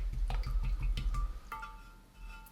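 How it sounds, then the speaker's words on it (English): A paintbrush is rinsed in a jar of water during watercolour painting, giving a run of quick, close dripping and sloshing taps that slow, then soft trickling and settling water with no talking. "I'm going to wash the brush out"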